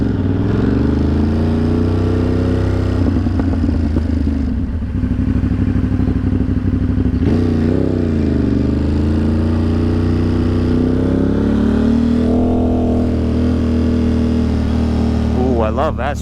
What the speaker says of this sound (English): We're about to see mad Ducatis, mad bikes